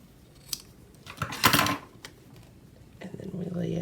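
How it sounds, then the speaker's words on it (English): Scissors snip off the edge of a sheet of paper in a few crisp cuts with a short rustling burst of paper handling, close up, with talk around them. "then we take the other one and we cut off the edge"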